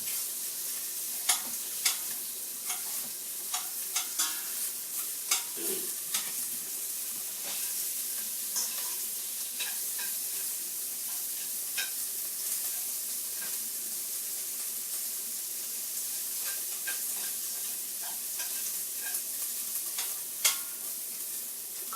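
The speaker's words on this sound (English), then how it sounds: "We have our meat sauteing in there" Meat sautés in oil in a pot, a soft continuous sizzle broken by scattered sharp crackles and stirring clicks, fairly quiet and with no talking.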